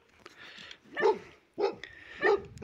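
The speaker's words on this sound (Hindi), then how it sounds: "यहाँ पर सबसे बड़ा इतना भयंकर कुत्ता हमने कभी नहीं देखा" A big, fierce-looking dog barks on a mountain slope at about 3258 metres, giving two pairs of loud, close barks separated by a short pause.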